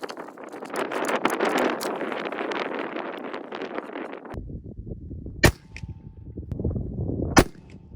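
A Howa 270 rifle fires one sharp, loud shot with a 53 grain test load outdoors. Wind noise fills the background, and a second crack follows near the end.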